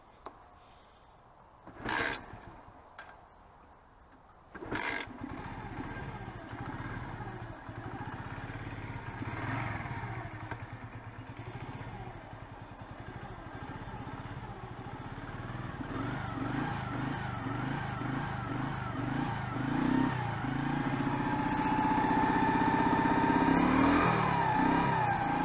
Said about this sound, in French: Après, je vais sortir le kick parce que la batterie, comme il fait froid,